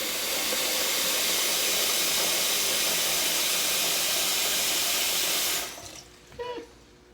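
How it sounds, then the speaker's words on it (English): Steady rushing hiss of tap water pouring into a pot for several seconds, then cut off abruptly, leaving a few faint clinks and drips. "I'm going to fill my pot up here with some water."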